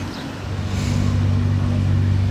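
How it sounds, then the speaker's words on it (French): An orange Porsche GT2 RS sports car idles nearby on a Monaco street, its low engine rumble swelling and then holding steady and loud. "Une autre Porsche mais beaucoup plus récente. GT2 RS."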